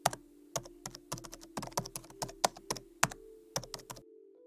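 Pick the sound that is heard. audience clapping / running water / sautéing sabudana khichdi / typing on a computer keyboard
typing on a computer keyboard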